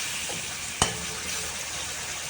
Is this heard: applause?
no